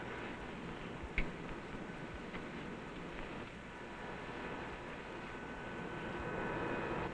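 The number three engine of a 1950s multi-engine aircraft starts on the ground, a steady, loud, rumbling drone that holds continuously and swells slightly toward the end.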